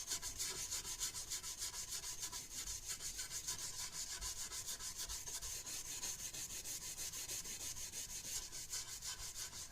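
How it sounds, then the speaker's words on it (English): A scouring pad rubs over a dry wooden gunstock to burnish a smooth finish. The close, steady scrubbing goes on without a break, fast and even in rhythm, with no talk. "we're just going to go over this entire thing with a scouring pad and just kind of burnish in a smooth finish to it"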